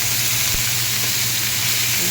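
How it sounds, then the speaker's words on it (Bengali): Tomato fries with onion paste in a pan for a Bengali fish kalia, a steady close sizzle and crackle with a brief stirring knock partway through. "টমেটোটা একটু ভেজে এর সাথে দিয়ে দিচ্ছি পেঁয়াজ বাটা"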